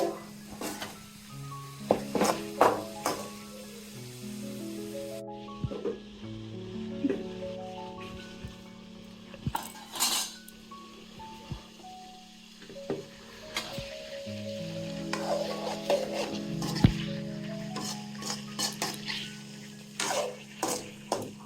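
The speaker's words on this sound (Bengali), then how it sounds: "আমি এখন ফুলকপি আলু দিয়ে দিচ্ছি। ফুলকপিগুলো কষিয়ে নিচ্ছি।" Cauliflower and potatoes are sautéed with spices in a pan, giving a moderate, uneven sizzle broken by stirring knocks and clatter, with quieter stretches between bursts.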